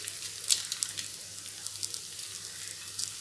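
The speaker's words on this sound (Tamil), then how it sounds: "எல்லா மசாலாவும் போட்டுட்டு நல்லா வந்து ஒரு 2 நிமிஷத்துக்கு வதக்கிக்கலாம்" Masala spices sauté in a pan for Maggi noodles, giving a steady, close hiss of sizzling oil broken by small crackles and pops, with no voices over it.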